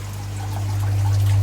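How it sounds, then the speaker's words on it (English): Small bubbles stream steadily from an air diffuser inside the protein skimmer of a Lobster Pod or Crab Pod aquarium, a continuous close trickling wash over a low steady pump hum that grows slightly louder. "You can see the air diffuser. It's producing fairly small bubbles."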